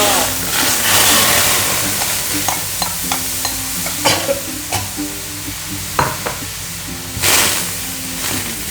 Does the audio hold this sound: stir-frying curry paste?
yes